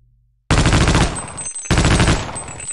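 Sustained automatic gunfire from a weapon in Half-Life: Opposing Force hammers out in two loud, rapid bursts separated by a short gap, close and dense.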